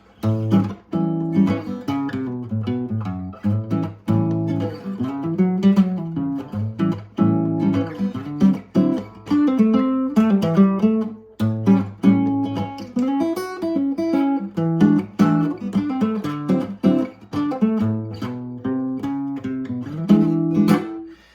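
A guitar plays a bluesy lick in flowing minor-pentatonic phrases, steady and close, with no voices.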